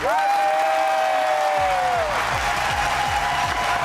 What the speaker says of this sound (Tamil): எல்லாம் பெரிய கைத்தட்டல் போடுங்க